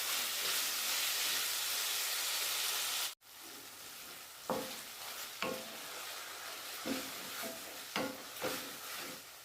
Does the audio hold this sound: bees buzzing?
no